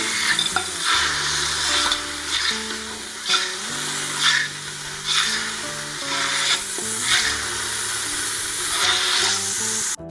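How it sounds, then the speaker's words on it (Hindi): Chicken pieces sizzle in hot oil in a pan while a spoon stirs them in rhythmic scraping strokes, all close and steady, while cooking a yakhni soup. "अब हम इसमें अपनी चिकन ऐड करेंगे। और ज़रा सा इसको ऑयल में हिला लेंगे।"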